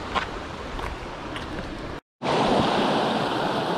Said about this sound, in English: And then you got this little waterfall, another one, and another one.